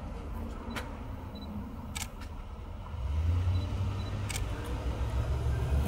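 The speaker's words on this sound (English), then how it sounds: "Sounds like a quieter shutter than the old one too, right?" A camera with a quiet shutter clicks several times, crisp isolated snaps spaced a second or two apart, taking photos of a cowboy outdoors over a steady low rumble like a running vehicle.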